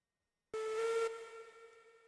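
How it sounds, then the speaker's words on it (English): A steam locomotive whistle sounds in the video game Railroads Online, one sudden sustained tonal blast with a breathy hiss that starts abruptly, then holds and slowly fades, heard alone. "And there was a whistle."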